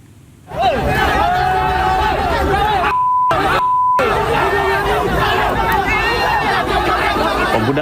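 A dense, loud protest crowd outside the DPR building mobbing a young man, with constant shouting and chatter throughout and a brief gap before the noise resumes unabated.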